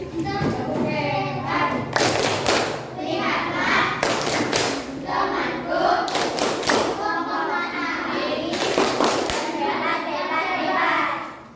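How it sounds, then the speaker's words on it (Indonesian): Classroom children do a rhythmic cheer clap for a group, loud bursts of synchronized clapping and thumps at regular intervals mixed with children's chanting voices close by. "Kasih tepuk hebat dulu buat kelompok terkait."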